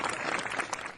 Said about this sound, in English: Jennifer Benz, you get in-house applause for being here